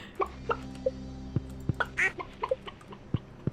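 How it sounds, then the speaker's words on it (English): Ducks and chickens in the Stardew Valley video game give short squeaky quacks and clucks, a series of brief, separate calls spread over a quiet background. "the ducks sound hilarious to me"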